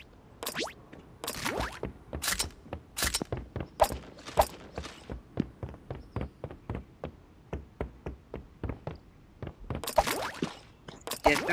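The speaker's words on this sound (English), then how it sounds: "Yes, gunfire." Sharp, close bursts of gunfire in Rules of Survival in quick irregular volleys, some single shots and some rapid clusters, with short gaps between them.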